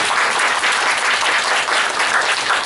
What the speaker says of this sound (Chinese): 真的大家再给老师一个掌声。